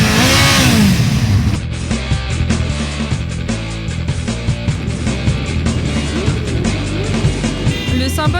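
A small 50cc scooter rides along with a steady, buzzing engine drone that rises and falls with the throttle, loud and close, alongside other engine noise.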